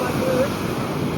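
Big sea waves wash in at Madhavpur beach as a steady, close surf roar with wind buffeting the microphone throughout a brief stretch.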